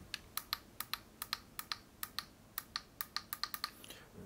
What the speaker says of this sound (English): You can really hear it click.